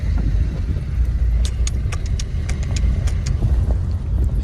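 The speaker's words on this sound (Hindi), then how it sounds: "बाबा रुको बाहर निकाल लूँ गाड़ी।" An old car rumbles with a steady low engine and road noise as it is driven out, a constant close drone with faint jingling rattles on top.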